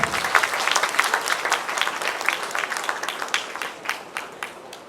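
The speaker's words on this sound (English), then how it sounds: "Please give them a big round of applause." An audience at a Diwali celebration ceremony gives sustained applause, a dense steady patter of many hands clapping that slowly fades, heard at moderate volume in a large room.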